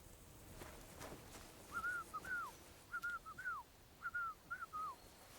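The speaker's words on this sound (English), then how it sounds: "Your whistling is getting on my fucking nerves the whole way." A character whistling a short repeated tune in the Kingdom Come Deliverance 2 video game, three clear melodic phrases of rising and falling notes, moderately near over a quiet outdoor ambience.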